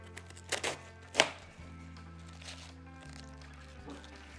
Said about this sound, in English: You know I'm cutting up some cabbage, don't you?